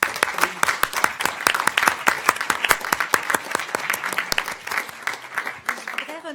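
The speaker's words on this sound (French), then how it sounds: "nous allons les applaudir" An audience at a colloquium breaks into loud applause for the women being thanked, dense sharp claps keeping up throughout before thinning slightly at the close.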